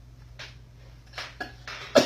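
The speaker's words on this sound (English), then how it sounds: "still coughing like crazy here." A person with a lingering illness coughs in short bursts, several dry hacks spaced across a couple of seconds, close and fairly loud over a quiet low hum.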